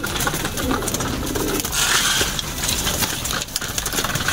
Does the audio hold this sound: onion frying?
no